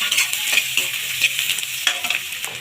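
A spoon stirs chicken khichuri with whole spices (green chillies, cloves, garam masala, cardamom, cinnamon) in a hot pan, giving a continuous close scraping and sizzling with rhythmic strokes, no voices.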